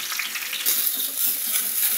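Pointed gourd (patol) pieces stir-fried in a hot pan give off a steady, close, fairly loud sizzle with soft scraping stirs throughout, and no one speaks.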